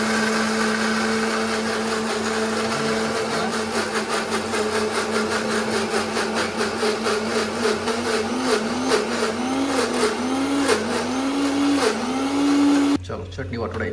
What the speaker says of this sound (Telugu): మిక్సీ ఉంది, మిక్సీ మూత పెట్టుర్రి, మిక్సీ గిన్నెలా పెట్టుర్రి.